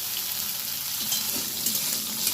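Papaya, raw banana and potato fry in hot oil in a pan, giving a steady, even sizzle with a few soft stirring clinks.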